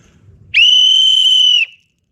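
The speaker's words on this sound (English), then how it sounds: "I'm gonna blow this one pretty hard" A loud, piercing blast from a plastic survival whistle holds one shrill pitch for about a second, then stops abruptly into silence.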